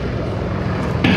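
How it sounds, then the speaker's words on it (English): A steady, loud engine drone from an open cockpit biplane flying at an airshow fills the moment and holds constant throughout. "not much more fun than flying on a day like this in an open cockpit biplane"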